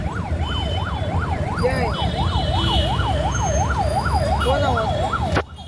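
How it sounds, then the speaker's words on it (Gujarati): An ambulance siren wails, sweeping steadily up and down in a regular rhythm as it passes, loud and close over traffic rumble, cutting off abruptly near the end. "અત્યારે એમ્બ્યુલન્સ નીકળે"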